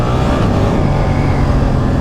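Steady, loud engine roar from a 2023 Suzuki 8S motorcycle under acceleration, a continuous droning rumble with no speech.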